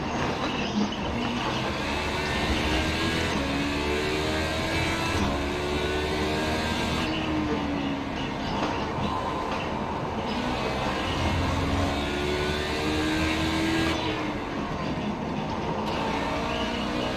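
A race car engine idling in a racing video game at Monza, a steady low mechanical drone with gentle wavering pitch sweeps throughout, loud and continuous with no talk.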